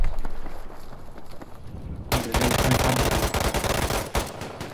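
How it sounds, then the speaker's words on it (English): Gunfire in the video game Battlefield V Firestorm: a quiet stretch gives way to a sudden burst of loud, rapid automatic shots that carries on for a couple of seconds, then breaks off and resumes. "Yeah, they're shooting."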